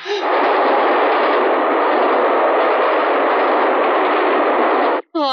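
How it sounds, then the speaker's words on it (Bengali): A train approaches in a Bengali film scene as a loud, steady broadband roar that holds for about five seconds and cuts off abruptly. A brief voice follows the cut. "এক্ষুনি ট্রেন আসছে"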